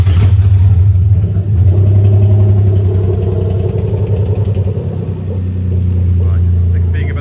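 A Toyota 1JZ-GE VVT-i engine from a 1996-1998 JZX100 runs steadily at idle during a VVT-i oil control valve test. It makes a close, deep, even rumble throughout, with a person talking over it.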